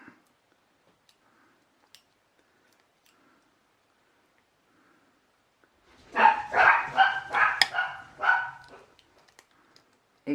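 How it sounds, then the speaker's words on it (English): Several dogs bark in a rapid, overlapping burst for a few seconds, fairly loud and close, after a long stretch of near silence indoors. "Ignore my dogs in the background."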